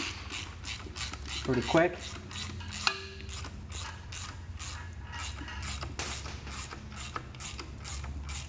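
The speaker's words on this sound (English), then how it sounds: "got a ratchet with a 21," A hand ratchet with a 21 mm socket spins a strut spring compressor tool, a steady clicking mechanical ratcheting with faint metal creaks, close and alone for most of the stretch, with a brief spoken remark.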